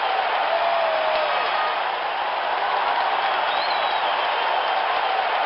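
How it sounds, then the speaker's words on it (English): Hand clapping from the APBA Baseball for Windows video game after a home run, heard as a steady wash of crowd-like applause that stays fairly loud and even for several seconds with no talking. "He claps his hands."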